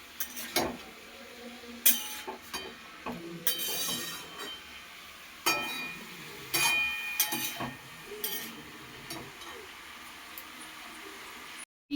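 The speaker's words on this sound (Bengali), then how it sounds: "ভালো করে একটু ভেজে নেব" Potato and carrot pieces fry in a pan for chowmein, a low sizzle under frequent spatula clinks, scrapes and knocks on the metal.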